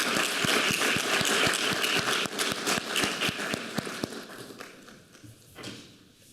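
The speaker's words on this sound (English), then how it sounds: "Please join me in giving a round of applause to all of them." Applause from an audience at the Oxford Africa Business Forum, a steady crowd clapping with a few sharp, distinct nearby claps standing out, gradually thinning and fading toward the end.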